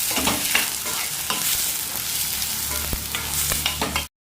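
Onions and green chilies fry in hot oil with cloves and cinnamon for mutton curry, a steady loud sizzle broken by several sharp scrapes of a stirring spoon, stopping abruptly near the end.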